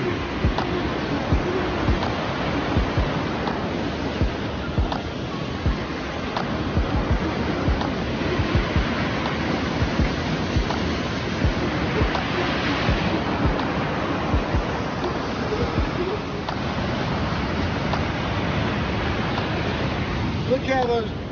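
Avalanche Creek rushes along a mountain trail, a loud, steady broadband roar of fast water that continues without a break, with people talking over it.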